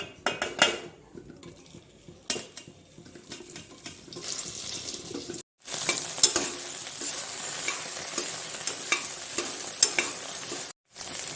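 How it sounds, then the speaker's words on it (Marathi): Clinks and clatter from a pot on the gas stove lead into a sudden loud, continuous hiss as chopped okra (bhindi) drops into three spoons of hot oil, sizzling steadily with small pops and one brief break. "तेलामध्ये आपण आता सोडू आपण चिरून ठेवलेली भेंडी."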